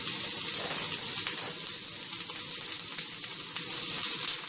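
Onions hit a hot, nearly smoking oiled pan with a bright, continuous sizzle that crackles steadily at moderate volume, close up and with no other sounds.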